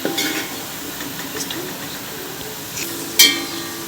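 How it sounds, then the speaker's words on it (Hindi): Onions browning gently in a pan while rice is being cooked, giving a soft, steady sizzle with light stirring and a few metallic clinks of a utensil against the pan, including one sharper scrape near the end. "चावल बना रही हूँ, प्याज हमारे ब्राउन हो रहे हैं।"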